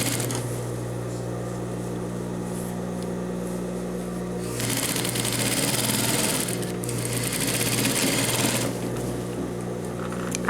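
A sewing machine runs close and steady stitching a seam on a man's brocade vest, a continuous mechanical whir with a low motor hum that grows louder partway through, with no talking.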